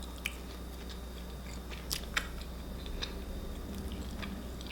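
Someone bites into a piece of homemade tempeh bacon and chews it close to the microphone, a quiet series of soft crunches and light clicks against a low background hum.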